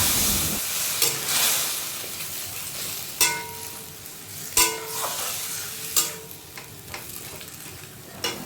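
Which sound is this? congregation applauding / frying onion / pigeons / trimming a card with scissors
frying onion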